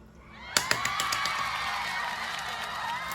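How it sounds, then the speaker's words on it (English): A small burst of applause and cheering begins abruptly with a few sharp claps, then settles into steady clapping with whoops, moderately distant and fairly faint. "Can I have a round of applause?"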